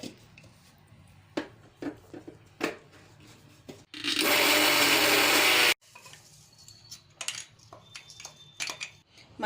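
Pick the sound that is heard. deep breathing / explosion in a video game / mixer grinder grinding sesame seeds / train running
mixer grinder grinding sesame seeds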